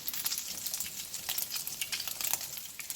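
Tuna patties frying in a pan, a dense continuous crackling sizzle with bright spitting pops throughout, steady and close, with no one talking.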